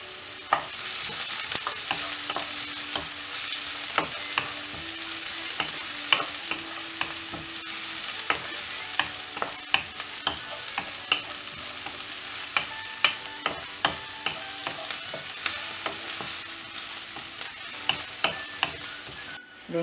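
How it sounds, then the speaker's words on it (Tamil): Onions sauté in a pan for ponnanganni keerai poriyal, giving a continuous close sizzle with frequent sharp ticks and scrapes from a stirring spoon throughout. "இப்போ வெங்காயம் ஆட் பண்ணிட்டு இத நல்லா வதக்கிடலாம்"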